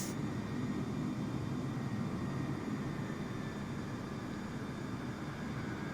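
An Airbus A320neo airliner lands in Microsoft Flight Simulator, its engines giving a steady, continuous roar and rumble with no breaks, moderately loud and unchanging.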